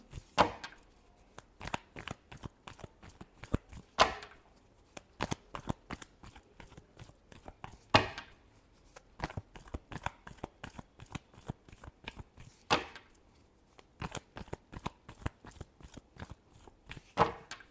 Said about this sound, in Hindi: लास्ट शफल, बहुत सारे कार्ड्स गिरे।